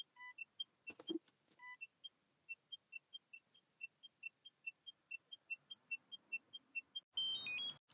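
A regular series of short, quiet electronic beeps from a NIRA skincare laser repeats at a steady pace, followed by a louder, longer tone burst marking a finished treatment section.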